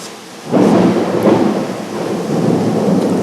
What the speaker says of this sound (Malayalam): ഇവിടെ പുറത്ത് നല്ല മഴയും ഇടിയും മിന്നലും ഒക്കെയാണ്. അതിൻ്റെ സൗണ്ട് ഈ ഇടയ്ക്കിടയ്ക്ക് കേൾക്കുന്നത്.